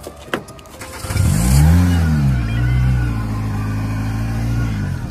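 Car engine cranked and started by a seller, catching after a brief crank and then revving up before settling into a steady idle, close and loud with no talk.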